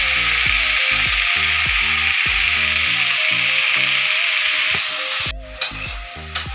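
Cabbage curry frying in a pan gives a loud, steady sizzle that holds for most of the stretch, then thins out toward the end as a few clinks and scrapes break in.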